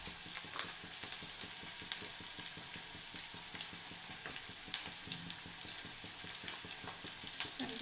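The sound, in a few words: onions and ginger garlic paste frying in oil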